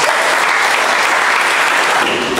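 Loud, close applause from an audience at a self-care and holistic wellness panel event, a dense continuous wash of clapping lasting a couple of seconds.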